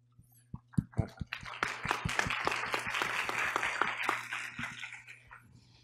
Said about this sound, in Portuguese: eu quero muito que ele esteja aqui recebendo os nossos aplausos também